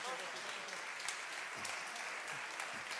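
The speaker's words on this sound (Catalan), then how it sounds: "jo ara mateix un aplaudiment estaria bé" A school audience at a gastronomy event claps together in a continuous patter, fairly quiet and somewhat distant, with a few voices mixed in.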